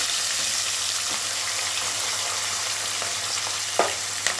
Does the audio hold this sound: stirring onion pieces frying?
yes